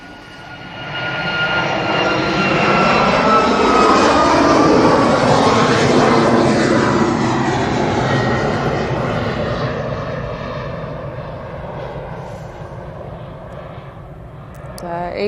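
A Ryanair jet airliner passes at East Midlands Airport, a loud roaring engine sweep that builds, peaks and slowly fades over about fifteen seconds, with people talking faintly underneath.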